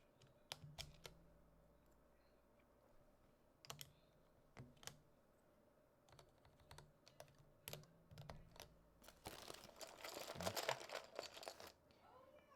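Keystrokes on a budget 96-key mechanical keyboard fitted with lubed Gateron Yellow switches, heard as scattered soft clacks that build into a quick burst of faint, close typing near the end.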